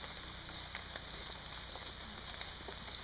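Rain falls steadily around a tapir enclosure as the animal feeds: a soft, continuous hiss of drops on surfaces with scattered small taps, moderately quiet and without voices.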